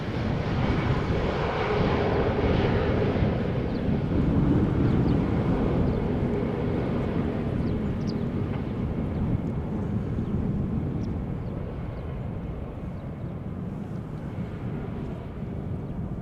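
Fixed-wing airliner arriving at Amsterdam Schiphol Airport on a breezy day, a loud continuous engine roar that swells and slowly fades over the whole span, with wind rumble mixed in and no talk.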